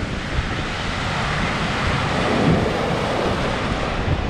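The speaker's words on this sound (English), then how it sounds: "You can see the wind has picked up. Waves are coming in stronger." Icy waves surge and crash steadily onto the Keweenaw Bay shore in strong wind, a dense, continuous roar with wind buffeting the microphone close by.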